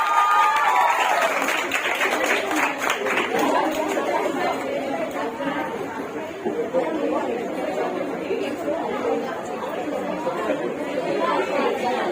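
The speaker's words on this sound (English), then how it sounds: "Guys, please clap." Audience applause at an Indian community event honoring girls' careers, moderate clapping mixed with crowd chatter throughout, fairly distant and continuous.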